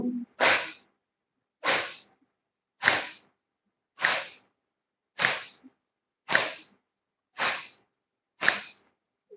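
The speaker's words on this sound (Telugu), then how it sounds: "గమనించారా నేను గాలి విడిచిపెట్టేది మీకు ఎక్కువ శ్రద్ధ వినిపిస్తుంది" Eight sharp, forceful exhalations through the nose during a yoga breathing exercise, at a steady rhythm, roughly one per second, each a short loud puff followed by silence.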